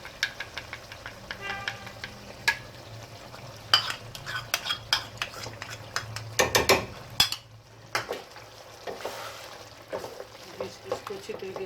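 Spoon scraping and clinking in a pan as chicken and kachnar buds are stirred with yogurt over low heat, irregular taps and scrapes over a soft steady sizzle, close by.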